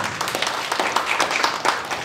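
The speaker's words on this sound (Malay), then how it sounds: "apakah kita berikan tepukan yang paling gemuruh untuk semua pihak yang terlibat." An audience at an official launch ceremony for a Kuala Lumpur economic development study gives steady, dense applause, many hands clapping together at moderate volume.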